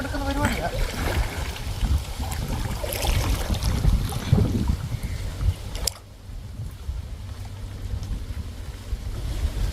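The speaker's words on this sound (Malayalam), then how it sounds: "നല്ല കാറ്റുണ്ട്" Strong wind blowing over open water while prawn nets are tied and set, a steady roaring gusty rush with buffeting on the microphone that drops away abruptly near the end.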